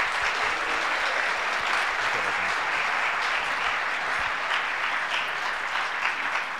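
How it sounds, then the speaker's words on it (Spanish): Conference audience applauding a guest speaker, steady dense clapping from a sizeable crowd sustained evenly throughout. "Brindemos un fuerte aplauso a nuestra invitada"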